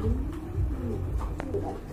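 Pigeons at a seller's loft give soft, low, repeated coos, close and gentle, with a little background noise.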